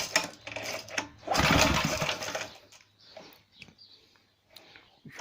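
Briggs & Stratton small engine being cranked but not starting: a burst of pull-start rattle and sputter, followed by quieter mechanical clicks and fading sounds, with no speech.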